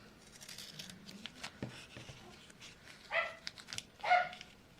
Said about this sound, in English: I don't know if you can hear the dog.